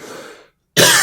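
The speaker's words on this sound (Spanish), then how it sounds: "yo me emociono y termino tosiendo" A single loud, close cough bursts out after a short silence, following a fading stretch of softer sound.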